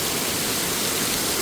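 Heavy monsoon rain pours down in a steady, dense roar, loud and unbroken, with no voices over it.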